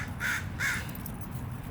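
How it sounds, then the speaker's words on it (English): Crows caw in a cemetery: two distinct harsh calls a short gap apart, fairly faint over low outdoor rumble, with no talk. "There's my crows."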